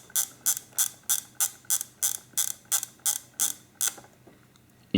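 A Mamiya 6 Automat camera's film advance being wound, a rapid run of about twelve crisp ratcheting clicks, close and clear, then stopping.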